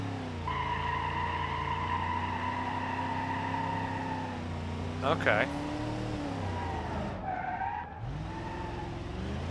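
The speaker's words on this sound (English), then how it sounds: "Now it's not going to pass the burnout test, I'm pretty sure, but we're going to neutral drop it just to try." In BeamNG.drive, a Moonhawk cop car is neutral-dropped for a burnout, its engine droning steadily before a brief screech of spinning tires breaks through midway, with a voice speaking briefly over the racing motor.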